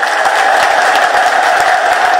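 An audience at a church gathering applauds, with dense, steady clapping from many hands at full volume throughout and no break.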